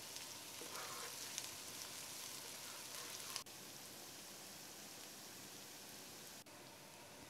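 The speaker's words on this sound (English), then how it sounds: "add the crushed ginger and garlic into the pot and fry everything together" Crushed ginger and garlic fry in a pot for a spicy coconut mullet dish, giving a steady, even sizzle with a crackly hiss throughout, interrupted only by two faint clicks.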